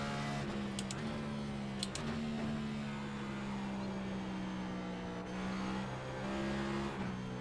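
A race car in the iRacing sim at Watkins Glen, engine droning steadily with pitch stepping up and down through gear shifts, faint and continuous with brief clicks.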